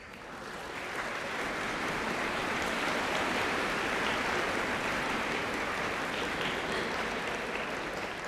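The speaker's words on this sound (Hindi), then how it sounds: "इस बात पर तालियां ज़्यादा गूंजी हैं" Sustained applause from an audience in parliament's Central Hall swells up within the first second and holds as a thick, even roar of many hands clapping.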